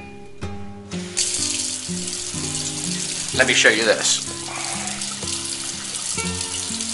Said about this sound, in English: You see I have the water running in the sink?